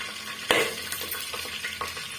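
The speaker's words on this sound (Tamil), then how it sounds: "பாருங்க எண்ணெய் நல்லா காஞ்சி வந்துருச்சு இப்போ வந்து நம்ம ஃப்ளேவருக்காக ஒரு பட்டையை சேர்த்துக்கிறேன்" A cinnamon stick dropped into hot oil for a potato and pea kurma gives one sharp sizzling burst, followed by a steady frying hiss with a few soft stirring clicks. No one speaks.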